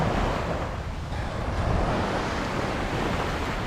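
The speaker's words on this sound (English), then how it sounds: "This here behind me is the Atlantic Ocean, and it's big." Atlantic Ocean surf rolls onto Fort Lauderdale beach as a steady, broad wash of waves mixed with wind noise, with no voices.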